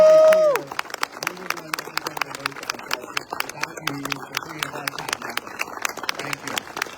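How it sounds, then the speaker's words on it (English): An outdoor crowd at a charity walk event breaks into sustained clapping and scattered cheering, steady and dense for several seconds, with voices talking over it. "Let's give a round of applause for this man and this organization."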